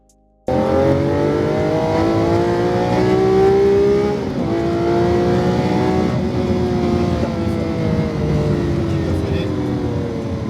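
Car accelerating hard out of a wide left-hand exit on a race track, its engine note climbing steadily and loud, with harmonics rising through gears and a brief dip near four seconds, under an instructor's voice.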